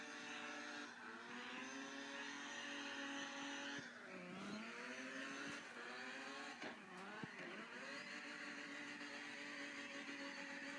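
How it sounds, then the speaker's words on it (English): A car in a racing video game laps at full throttle, its engine drone climbing and dropping through gear changes, with brief dips on corners and a steady high-revving tone throughout. "I'll just be full throttle and just be controlling with my steering."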